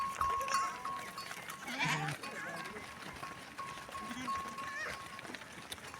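Goats bleat at a distance in scattered short calls over outdoor rural background noise, with people talking throughout.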